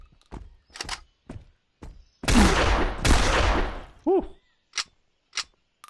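Shotgun blasts against zombies in the video game Zompiercer: a few sharp reports, then two long loud booming blasts with trailing rumble, followed by a ringing metallic tone and more short hits.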